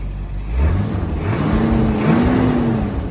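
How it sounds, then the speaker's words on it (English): A 1968 Shelby GT350 engine revs up and holds a rising drone, exhaust rumbling loudly and close by with a steady throaty roar. "See if we can hear that exhaust a little bit."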